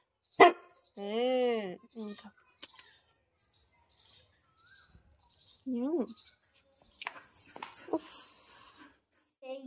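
A golden retriever dog giving a few short barks and whining vocal sounds, close and fairly loud, with stretches of quiet and people talking in between.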